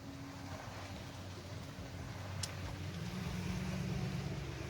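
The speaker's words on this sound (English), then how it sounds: "Of course somebody has to drive by." A car drives by outdoors on a sunny day, a soft rush of tires and engine that swells in the later seconds, heard from a moderate distance with no voices.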